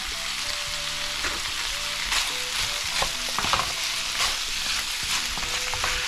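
Pork and tomatoes sizzle steadily in a pan for pork binagoongan. A utensil stirs and scrapes through it with frequent knocks, the frying loud and close with no speech.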